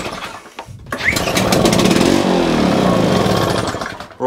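Rope yanks on a Victa petrol lawn edger with a starting problem, the small engine sputtering into a loud, rough buzzing run for a few seconds before easing off.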